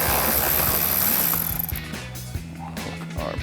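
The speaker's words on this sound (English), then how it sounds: "we're gonna take our ratchet 10mm socket, take our nut off of our terminals here" A hand ratchet with a 10mm socket works a battery terminal nut loose on a 2014-2015 Sierra 1500 pickup. A steady run of close, evenly spaced clicks follows a brief rushing noise, and no one speaks.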